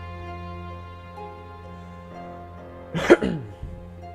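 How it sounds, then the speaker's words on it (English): A single throat clearing, close and fairly loud, rising briefly out of a low steady hum and then fading. "I have to clear my throat all the time in this."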